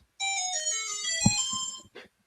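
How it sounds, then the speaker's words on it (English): A phone left in a room plays a melodic electronic ringtone: a bright, sustained multi-note tune that starts abruptly, plays for under two seconds with a soft thump partway through, then cuts off. "Whoa, is that a ringtone?"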